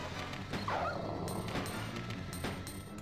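Dogs in Resident Evil 2 give short yips and barks, close and agitated, alongside game noise.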